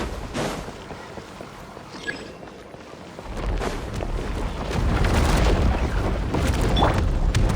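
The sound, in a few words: breakable wall being blasted in Genshin Impact video game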